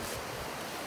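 Sea waves wash onto a beach shoreline at sunset, a steady, broad rush of surf with some wind on the microphone, continuous and fairly loud with no talking.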